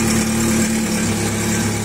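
A 2001 Yamaha R1 motorcycle engine idles steadily just after restarting, a close, loud, even hum with no talking.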